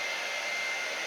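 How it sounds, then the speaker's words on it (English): A hair dryer blows steadily at close range, a constant broadband whoosh with no pauses or voices. "I can hear the hair dryer"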